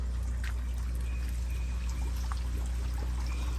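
Tap water pours steadily into a crayfish pond, a continuous rushing, splashing flow with a low rumble underneath, close and unbroken for several seconds with no talking.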